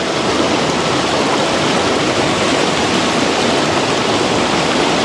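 Loud, continuous rushing of river water muddied by runoff, a dense unbroken roar that stays steady and close, with no voices over it.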